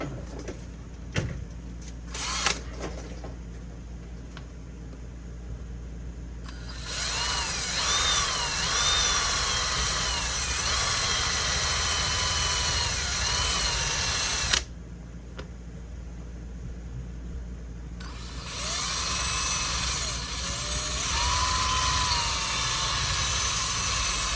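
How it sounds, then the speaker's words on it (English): A power drill whines in two long bursts drilling out a broken HP 15-eg3278nr laptop hinge, its pitch wavering as it bites in, separated by a pause with faint clicks and handling noise. "So I might just drill that out."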